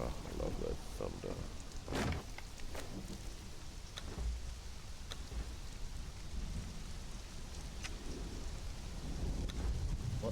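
Game thunderstorm in Conan Exiles: steady rain hiss with several sharp thunder cracks and low rumbles rolling through, while players' voices come and go over the storm.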